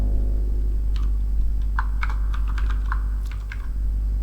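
A computer keyboard is typed on while entering a function call in Python code, a short cluster of quick, close clicking keystrokes over a low steady hum.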